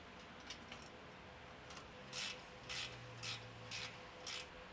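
Bolts are tightened with a ratchet on Molle panels fitted to a Toyota Prado 150, giving several quiet, regular clicking bursts at close range with no talk.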